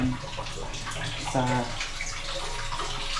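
Water from a tap runs steadily into a bathtub indoors, a continuous close splashing rush, with a voice speaking over it.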